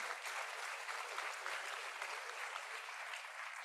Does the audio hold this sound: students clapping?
yes